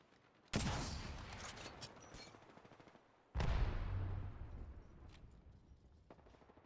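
Kraber sniper rifle fire in a video game sounds as two loud, heavy booming shots a few seconds apart, each followed by a long decaying rumble. Fainter clicks and thuds come near the end.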